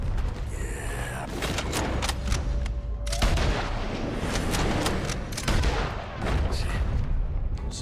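Gunfire in Red Dead Redemption 2 crackles through a busy firefight, with repeated sharp shots and distant booms layered over a constant din of battle noise, while voices speak intermittently underneath.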